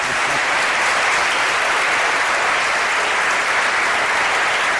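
Loud, dense applause from a large audience at a public event in Mieres honouring a prize-winning writer, continuous close clapping filling the room without a break.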